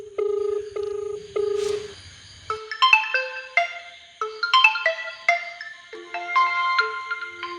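Telephone ringback tones pulse in steady repeated beeps during a call being placed, then give way to a bright, loud electronic ringtone melody playing alone.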